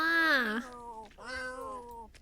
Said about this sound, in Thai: คาเล็บเลี้ยงแมวตั้งเจ็ดตัว